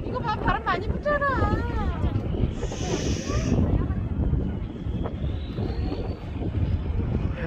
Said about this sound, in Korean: 이거 봐, 바람 많이 붙잖아.